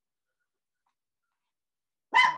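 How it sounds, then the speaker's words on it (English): A single short dog bark sounds at the very end after near silence, fairly clear and alone with no talk. "If you hear my dogs in the background"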